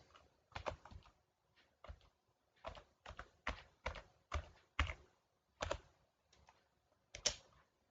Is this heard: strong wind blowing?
no